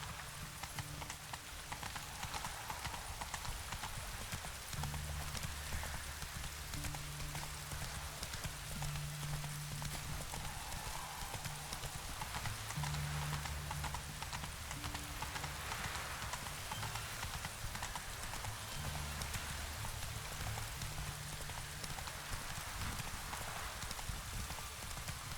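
Horse hooves clip-clop steadily on the ground in The Witcher 3 as the horse Roach trots along, with a rain-like hiss and low ambient tones running throughout.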